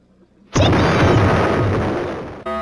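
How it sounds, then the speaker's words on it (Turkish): A bomb explodes in the Roblox Brookhaven video game: after a quiet moment, a sudden loud close blast that rumbles on for about two seconds before cutting off, with no talking over it. "Bomba bomba. Patlatayım mı? Patlat."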